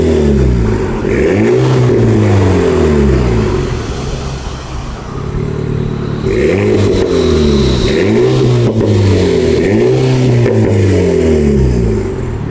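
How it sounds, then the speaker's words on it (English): An Alpine A110 with an upgraded exhaust system revs repeatedly, its engine note sweeping up and falling back in loud, close, rhythmic blips that sound alone with no talk. "But let's hear what the exhaust system sounds like now."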